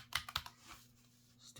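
A Redragon K618 clicky mechanical keyboard gives a few sharp, close keystrokes in quick succession, then a pause and one more click, over a faint steady hum.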